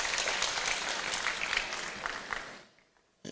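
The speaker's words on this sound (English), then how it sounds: "A round of applause for His Royal Majesty." A hall audience at a Supreme Court anniversary ceremony claps dense and lively for His Royal Majesty, then the applause fades out quickly into near silence, ending with one brief sharp knock.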